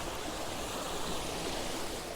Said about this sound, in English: you can see some of those raindrops hitting the little water feature here